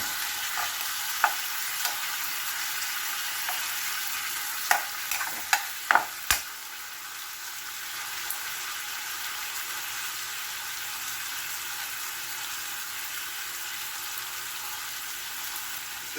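Beef shank frying for caldereta in a pan, a constant close sizzle with a cluster of sharp spatula scrapes and clanks early on, then steady frying alone with no talking.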